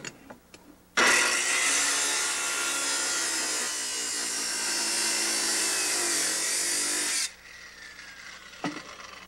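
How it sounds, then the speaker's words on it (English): A circular saw fitted with a masonry cutting blade scores the face of a brick paver in one loud, continuous grinding cut of about six seconds, starting and stopping abruptly, with a few faint taps before and after. "we'll use this circular saw with a masonry cutting blade, and I'll score the brick on the side that shows"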